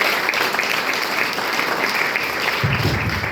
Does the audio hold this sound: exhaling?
no